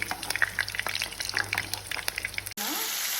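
Mutton sizzles in a pan over a high flame with a close, busy crackle and popping spatter, then the sound cuts abruptly to a smoother hiss at the end.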